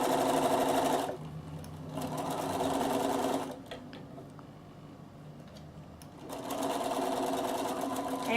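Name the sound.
Bernina sewing machine sewing a vest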